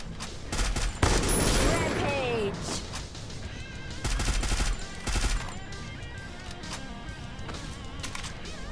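Gunfire from the battle-royale video game Free Fire: rapid bursts of automatic shots crackle in clusters, loudest early and again midway, then trail into quieter scattered fire, with a voice speaking over the game.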